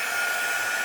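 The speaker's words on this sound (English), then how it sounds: "it's just going to take a moment with the heat gun" A heat gun blows steadily at close range while drying an art journal page, giving a continuous, even airy roar with no pauses, and nobody speaks over it.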